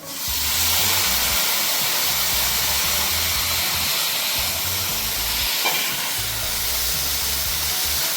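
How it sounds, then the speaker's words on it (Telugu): Spinach frying in a pan with ginger garlic paste for mutton palak keema gives off a loud, steady hiss and sizzle that fills the whole stretch without talk. "పాలక్ కూడా పచ్చి వాసన పోయేంత వరకు ఫ్రై చేసుకుందాం"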